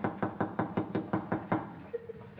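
A steady series of about eight sharp knocks on a door, evenly spaced and fairly close, followed by a brief faint tone as the knocking stops.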